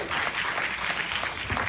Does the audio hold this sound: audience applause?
yes